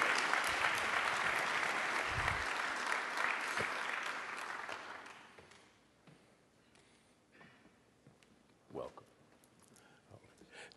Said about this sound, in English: Please give him a round of applause and come on up